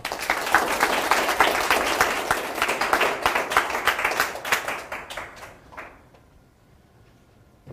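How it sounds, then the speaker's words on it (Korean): Audience applause at a Korean lecture hall, a dense burst of clapping that stays loud for several seconds, then thins and fades away into near silence. "박수 한번 치세요."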